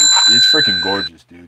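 Phone notification ding announcing an OfferUp offer, a bright bell-like chime ringing steadily for about a second under someone talking.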